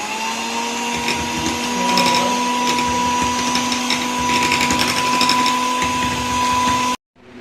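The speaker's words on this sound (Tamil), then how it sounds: "இதில் இப்போ இந்த மிக்சிங்கை நல்லா நம்ம பிளெண்ட் பண்ணிடலாம்." Blender running continuously on a mango ice cream mixture, a loud steady motor whine with a churning hum that cuts off abruptly near the end.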